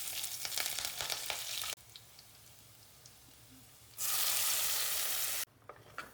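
Green chilies and ginger sizzle in hot oil with popping mustard seeds, dried red chili and curry leaves, a close, loud frying hiss that surges and drops in bursts.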